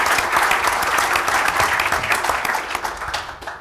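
A short burst of audience applause at a medical device industry conference evening, many hands clapping briskly and fairly close, tapering slightly toward the end.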